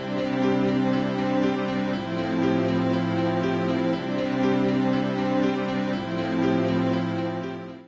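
An open 4/4 music loop at 120 bpm plays with no drums, sustained tonal chords shifting every couple of seconds, steady and fairly loud throughout.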